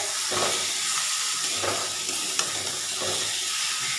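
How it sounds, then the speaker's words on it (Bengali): Egg curry sautéing in a pan, a constant bright sizzle and hiss with soft rhythmic stirring strokes roughly every second, close by and without talk. "দেখো বন্ধুরা আমার ডিমের ঝোল কষানো হচ্ছে"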